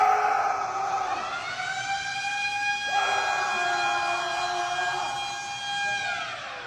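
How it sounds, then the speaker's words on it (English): A gym's loud electronic lunk alarm siren wails continuously, its tones sliding and stepping in pitch before tapering off. "a siren that would go off anytime someone made too much noise during a workout"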